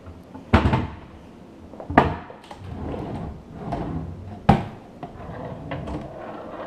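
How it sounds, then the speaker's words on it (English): Slide-out cabinet drawer at the bottom of a unit in a house being worked, producing several sharp wooden knocks and sliding scrapes spaced a second or two apart, close and fairly loud. "There's a slide out drawer on the bottom."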